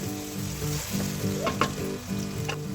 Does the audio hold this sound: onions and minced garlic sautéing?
yes